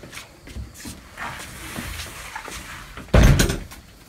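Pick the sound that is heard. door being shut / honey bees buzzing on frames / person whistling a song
door being shut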